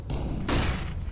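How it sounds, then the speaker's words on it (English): A flashbang grenade goes off in Counter-Strike: Global Offensive, a single loud, close burst that rings out over a steady low rumble of gameplay noise. "Deploying flashbang."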